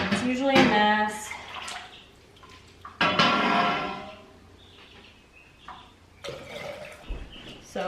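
Beef broth splashes and gurgles as it is poured into canning jars, two loud pouring bursts close up with quieter drips and clinks between, and a voice speaking briefly.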